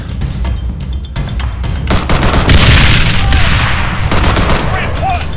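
Loud, heavy gunfire and booming blasts in a military video game squad mission, dense overlapping volleys and bursts that stay close and continuous throughout with no quiet gaps.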